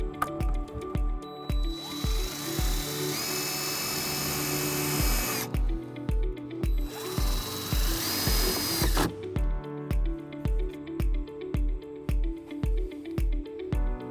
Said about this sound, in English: we're going to use the included tap screw with a 1/4 inch socket